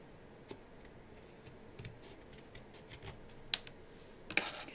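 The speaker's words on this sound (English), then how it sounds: "I am just going to take my scissors and round just a little bit" Scissors snip paper to round the end of a paper craft: a few faint, sparse cuts and clicks over a low, quiet background.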